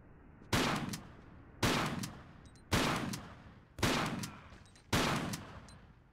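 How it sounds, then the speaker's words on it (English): Gunfire in the Tomb Raider IV video game comes as five loud, evenly spaced shots about a second apart, each a sharp crack with a short decaying tail over faint background hiss. "where am I being shot at from?"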